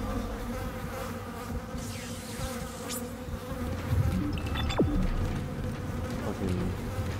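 Insect-like buzzing of bees swarms steadily through a dark Dead Space game scene, a continuous droning hum with a few sharper whooshing game effects rising over it, no talking.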